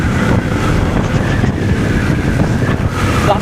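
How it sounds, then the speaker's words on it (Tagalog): Strong wind buffets the microphone in a steady low roar during a motorcycle ride in the Philippines, with the motorcycle's rumble underneath and no voices. "Lakas ng hangin."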